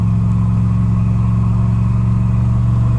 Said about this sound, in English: Let me give it a little bit more throttle. We're about 3/4 throttle right now.